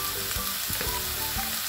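Green onions fry in a pan for a bulgogi moussaka, giving a steady, close sizzle with a few soft stirring scrapes.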